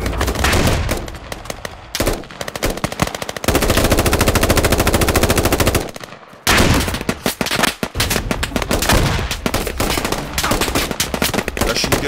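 Suppressive machine gun fire in Squad, loud sustained automatic bursts with brief gaps, one long unbroken stream in the middle, then rapid rattling shots continuing to the end.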